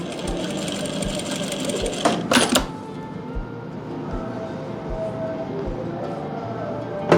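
A sewing machine stitching lace onto a dupatta with yellow thread, running as a loud, continuous close whir with a brief louder burst and pause midway, then resuming its steady drone.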